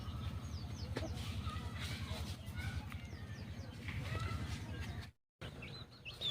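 Country chickens cluck and chirp in a busy village farm pen, with many birds calling over each other and people talking nearby.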